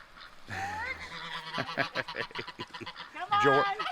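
Geese, including Pekin, Czech and Chinese geese, honk loudly nearby on a farm, a burst of harsh calls followed by more honks, mixed with other fowl noises in a busy yard.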